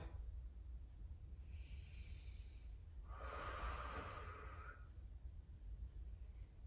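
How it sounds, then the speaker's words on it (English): During a yoga stretch, two soft breaths sound close and quiet over a low hum, the second a longer, airy exhale. "and breathing out."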